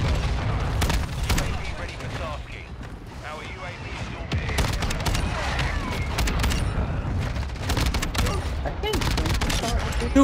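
Rapid shotgun blasts from a KV Broadside in a Call of Duty multiplayer match, sharp booming shots fired in quick bursts with short gaps, loud and close, mixed with excited talking throughout.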